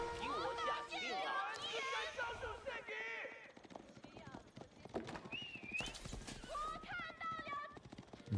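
Horse hooves clatter in quick galloping rhythm in a real-time strategy game battle, with whinnies and layered game effects under constant commentary.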